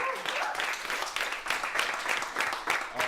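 An audience at a Savannah community arts project event bursts into applause, dense clapping in surging waves that rise and fall across the whole moment.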